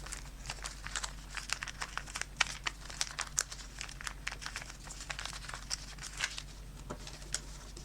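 Origami paper being folded and creased into a kusudama unit, soft crinkles and sharp little crackling snaps scattered irregularly throughout, close and quiet, with no talking.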